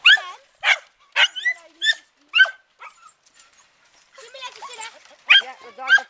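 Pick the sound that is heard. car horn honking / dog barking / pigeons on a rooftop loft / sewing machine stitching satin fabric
dog barking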